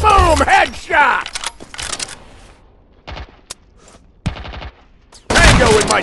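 Gunfire from the mobile shooter game Modern Strike comes as loud bursts of shots and rapid clattering fire between quieter gaps, with an excited voice speaking over the opening and closing moments.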